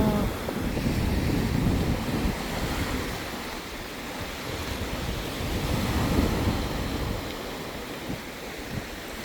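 Sea waves wash steadily onto a beach, a continuous broadband surf roar with gusts of wind buffeting the microphone and no voices.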